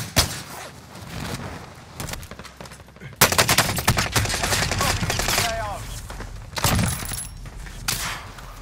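Rocket launcher fire and explosions in a shooter game come as sharp bursts and rattling blasts, with a loud impact near the middle followed by sustained crackling noise and occasional faint whistling tones.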